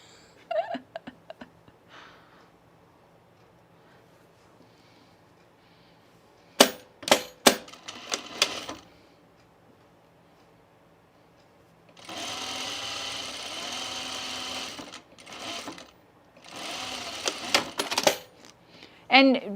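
A sewing machine stitches a French seam on a side seam in bursts of fast, rattling mechanical whirring, each run several seconds long, separated by sharp clicks and pauses, close and loud.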